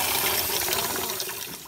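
Water running from a kitchen or bathroom sink tap, a steady hissing gush close by, with no voices.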